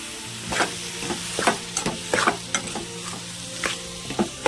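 Eggs fry in oil in a pan for a village-style egg curry with turmeric, giving a continuous sizzle with repeated scraping and stirring clicks close by.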